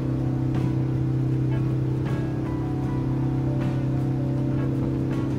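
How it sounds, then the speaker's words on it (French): A diesel car engine revs during an engine decoking session, giving a loud, steady low drone with a constant hum that holds throughout, without pause, and no talk. "Bon, on va dire que ça fait une accélération."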